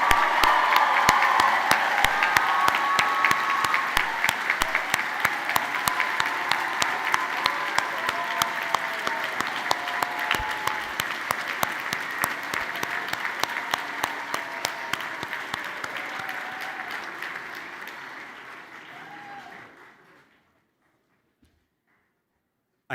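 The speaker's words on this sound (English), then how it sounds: "Let's give all the graduates one final round of applause," A final round of applause for graduates at a commencement ceremony, with dense, sustained clapping and some crowd cheering that gradually thins before stopping abruptly near the end, leaving quiet.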